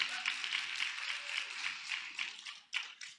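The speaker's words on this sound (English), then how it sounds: "give her another round of applause" Audience applause for a senator at a maternal health convening, a soft, steady patter of many hands from a room crowd that stays fairly faint throughout, with a few sharper claps near the end.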